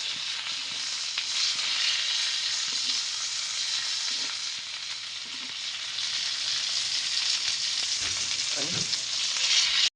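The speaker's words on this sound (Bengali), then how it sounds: "মাছটা দুই পাশ উল্টিয়ে ভাজা হয়ে গেছে" Fish sizzles and crackles steadily in a hot pan, a constant frying hiss with a few soft clinks and stirring noises as it is turned and fried on both sides.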